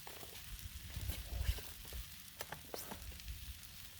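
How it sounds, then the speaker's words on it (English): Metal spatula scraping Trader Joe's BBQ jackfruit scraps across a hot Blackstone griddle, with a soft sizzle underneath and several short, close scrapes and taps. "Scrape out some scraps here."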